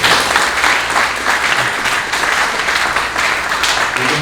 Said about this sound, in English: Give Adriana a big round of applause.